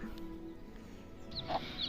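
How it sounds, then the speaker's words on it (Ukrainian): Soft clucking and chirps from young chickens feeding close by, brief calls over a low background murmur. "Ось так мої курчатка зараз їдять."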